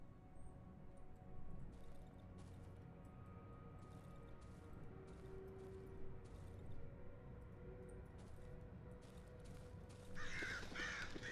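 Crows caw in the Darkwood video game, a series of repeated rasping calls in uneven bursts over a low ambient drone, fairly faint, with a denser flurry near the end.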